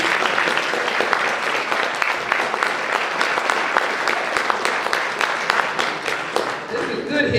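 A crowd claps steadily at a basketball hall of fame honoring event, a thick continuous wash of applause with scattered louder claps, tapering slightly near the end.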